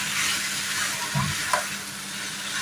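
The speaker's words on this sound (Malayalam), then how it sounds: "നമുക്ക് ഇങ്ങോട്ട് ഇളക്കി കൊടുക്കാം" Chicken coated in masala being stirred in a pan for a special chicken curry, a steady close sizzle with a couple of brief scraping stirs over it and no talking.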